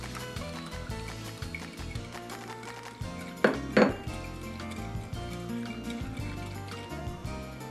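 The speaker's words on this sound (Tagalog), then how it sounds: "Isalin ang tinimplahang gelatin sa tinimplahang krema at haluin muling" Gelatin mixture is stirred into sweetened cream for a cathedral window dessert, giving soft scraping and a couple of sharper utensil clinks against the bowl midway, over background music.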